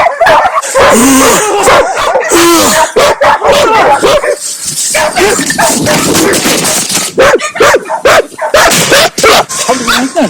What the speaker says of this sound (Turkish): Köpek geliyor bak.